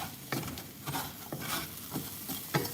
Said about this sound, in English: I'm cooking, so you will hear some sizzling sounds